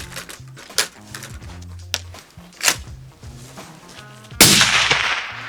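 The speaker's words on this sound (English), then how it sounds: "Get your gear ready, do one shot and hit the target." A single rifle shot fired at a target: one sharp, loud crack with a short ringing tail comes near the end, after a few faint clicks and soft background music.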